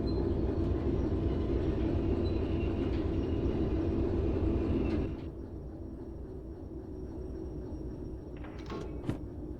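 A train rolls along the rails in the Derail Valley railway simulator with a steady, heavy rumble that drops to a quieter drone halfway through, and a few sharp clicks near the end.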